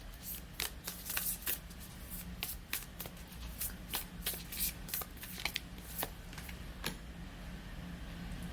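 Oracle cards being shuffled by hand, a close run of quick riffling flicks repeating in an uneven rhythm over a soft background hum.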